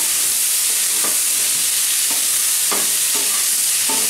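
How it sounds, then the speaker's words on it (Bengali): Cauliflower florets fry in hot oil in a pan with a constant loud sizzle, broken by several scraping stirring strokes at irregular intervals, close up. "ফুলকপিটা আমি বেশ ভালো করে ভাজবো"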